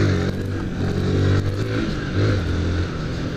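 A Honda Fan 150 motorcycle engine revs with a rough, pulsing drone that swells and dips over a few seconds, close and fairly loud, with no talking.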